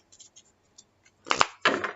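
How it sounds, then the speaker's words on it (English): A tarot card deck being shuffled: a few faint, scattered card clicks, then two louder bursts of rapid papery riffling close by, with no talking. "Let me just do one last shuffle."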